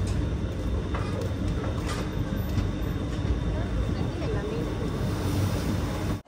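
Parasuram Express train at a station platform, a low rumbling engine and carriage drone with faint clatter, steady and near, with a voice talking over it.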